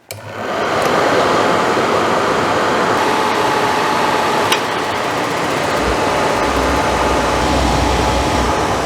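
An RV furnace burner, test-fired after twisting two blue wires together, roars steadily after ignition, a loud continuous broadband whoosh of burning gas and blower air that holds evenly throughout with no voices.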